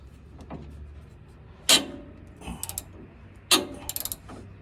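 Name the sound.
ratchet wrench loosening a bolt on Dodge Ram van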